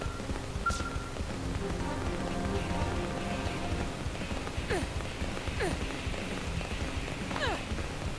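A heavy downpour pours steadily in the video game Xenoblade Chronicles X, a constant wash of rain hiss at moderate level, with a few brief chirping or whistling game sounds cutting in over it and no talk.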